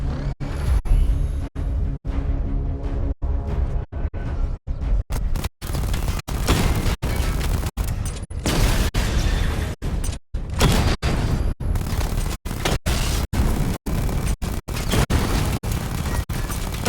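A video-game missile barrage blasts targets, with a loud, relentless run of booming explosions that hit one after another, broken by brief, regular gaps of silence.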